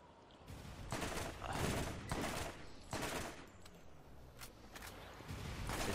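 Rapid bursts of gunfire from the Borderlands video game, a steady run of broadband shots in uneven volleys, fairly loud and continuous throughout with no talk.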